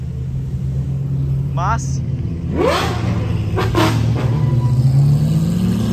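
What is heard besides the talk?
car exhaust revving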